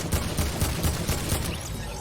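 Rapid bursts of gunfire crackle from a video game, a quick string of sharp shots repeating at an even rhythm with a dense noisy background and no talk.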